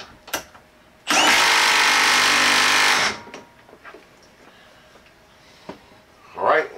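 A Milwaukee M12 3/8-inch stubby impact wrench in mode 3 tightens with a loud, continuous rattling hammer burst of about two seconds, framed by quiet handling clicks and a brief voice afterward.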